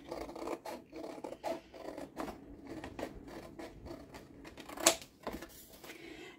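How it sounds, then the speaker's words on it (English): Repeated crisp snips of old scissors cutting through paper or cardstock, a steady rhythm of close, fairly quiet cuts with one sharper click near the end. "I'm going to take my old scissors"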